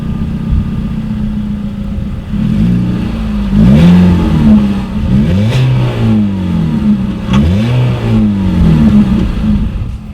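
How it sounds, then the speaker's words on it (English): A 2018 Ford EcoSport's engine idles, then revs up repeatedly in several sharp bursts through a single exhaust outlet, its exhaust note rising and falling, loud and close. "here is that exhaust clip"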